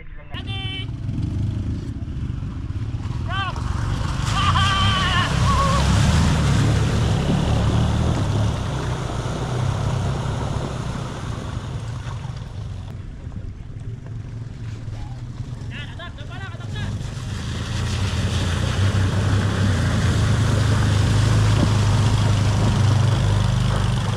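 A Yamaha PG-1 motorcycle crosses a shallow river, its engine droning steadily for the whole stretch with water sloshing and splashing around the wheels, while someone talks over it.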